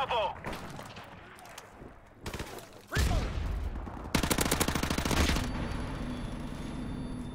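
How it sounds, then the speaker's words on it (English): Sustained automatic gunfire in Call of Duty: Modern Warfare Remastered multiplayer, a rapid rattling burst of shots following a few earlier single blasts, loud and close, with a voice speaking over it at times. "Put on some suppressive fire."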